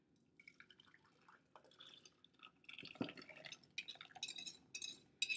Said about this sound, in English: just go ahead and pour the ice cream base right into